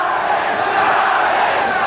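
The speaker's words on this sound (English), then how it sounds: "the crowd, after sitting on its hands through the entrance of the fighters and the introductions, has now gotten right into it in the first round" A boxing arena crowd roars steadily in the first round of a 1987 professional fight, a dense, continuous wash of cheering and shouting with no break, loud and close.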